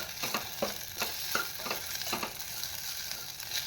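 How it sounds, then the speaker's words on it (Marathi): Sago pearls fried and stirred in ghee in a pan for kheer, with steady sizzling and a run of rhythmic spatula scrapes that thin out toward the end; no voices. "साबुदाणा घालून घेतले आणि छान असा तुपामध्ये परतवून घेणार आहे."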